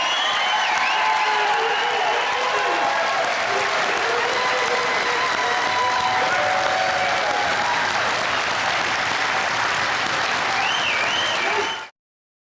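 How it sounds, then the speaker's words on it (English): A crowd gives sustained applause and scattered cheers for a St. Paul Police Department recruit academy graduating class, a dense, loud roar of clapping that holds steady for about twelve seconds before being cut off abruptly. "Round of applause."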